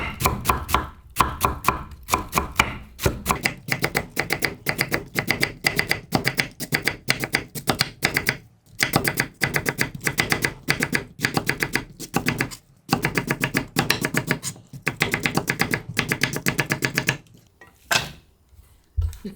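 Rapid, rhythmic knife chopping of radish on a cutting board, quick taps in long runs broken by brief pauses, close and crisp.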